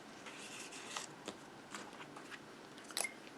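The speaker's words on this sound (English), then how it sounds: "now I'm going to bring in my snips." A few sharp, quiet snipping clicks from snips cutting card for a box, spaced irregularly, with a crisper cut near the end, over low background hiss.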